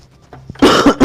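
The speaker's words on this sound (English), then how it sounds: "Sorry for the cough." A single close, loud cough of a few rough bursts, preceded by faint quiet room sound.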